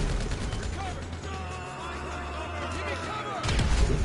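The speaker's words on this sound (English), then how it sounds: "there's a grenade" Grenade exploding in GTA Online, a loud booming blast with rumbling low end that fills the clip, followed by a second heavy impact near the end, with no talk over it.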